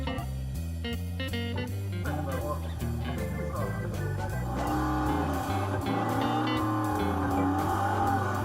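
A red Chevrolet Malibu is driven hard, its engine droning loud and steady as the pitch holds and shifts, with a rising rumble under a layered soundscape and no talk.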